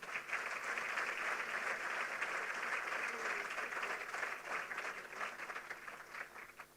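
Audience at a Curaçao ceremony applauding its athletes competing in Paris, dense steady clapping from a large crowd that holds for several seconds before tapering slightly at the end.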